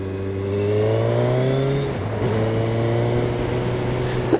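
A 2022 Suzuki Hayabusa motorcycle accelerates hard, its engine note climbing steadily, dropping with a gear change, then rising again, loud and close under rushing wind.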